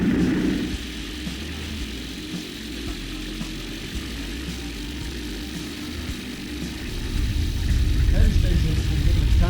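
A Just Aircraft backcountry airplane taxis toward the runway at a sport aviation showcase in DeLand, with a steady engine drone under a commentator's voice that swells louder near the end.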